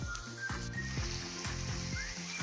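Onion frying in a pan, a steady close hiss of sizzling oil with faint whistling tones and soft regular knocks, as if the pan is being stirred.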